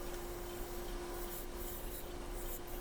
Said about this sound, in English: Now with the skew chisel to start the foot area and the mortise.